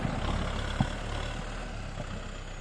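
A Kubota M6040 tractor idles during evening field ploughing, a steady low diesel rumble close by and alone, with a brief knock partway through.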